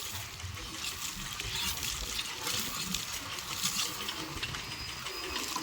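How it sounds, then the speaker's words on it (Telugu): Pressure-washer water jet hissing steadily against a motorbike during a water service, a continuous broadband spray at moderate distance with no talk. "ఇట్లా కొడతారనమాట వాటర్"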